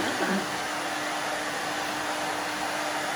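A hair dryer blows steadily while short hair is dried to the side, a loud continuous whooshing roar with an even tone and no pauses.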